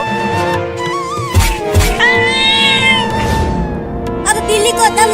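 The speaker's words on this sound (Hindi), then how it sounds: "अब बिल्ली को दम लगा के खींच चिंकिया" An animated cat meows over a steady music bed, with cartoon voices speaking around the cries.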